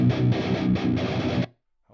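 A 7-string electric guitar played through an analog amp gives a thick, distorted chord-driven riff with a steady chugging rhythm, loud and up close, that stops abruptly into silence.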